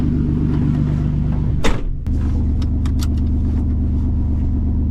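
Chevy S10 pickup with a cheap side-exit exhaust and the muffler removed, idling with a loud, steady low rumble, plus a brief sharp burst partway through before the deep drone settles back in, no talk.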